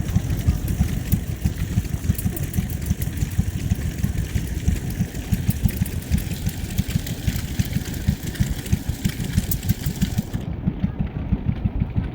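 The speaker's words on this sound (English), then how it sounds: "Hot air engine." At a steam rally, a vintage hot air engine runs with a steady, rapid, rhythmic chugging, close and continuous, amid faint outdoor background noise and no clear talking.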